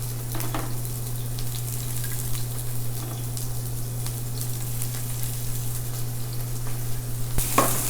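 Red onions and julienned peppers fry in a pan for chicken cacciatore, giving a steady close sizzle with a few light stirring clicks and a brief sharper scrape near the end.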